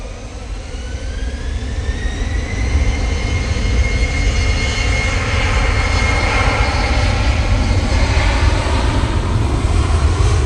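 A jet aircraft at Manchester Airport builds to a loud, sustained engine roar with a rising whine sweeping through, steady and close for the full stretch.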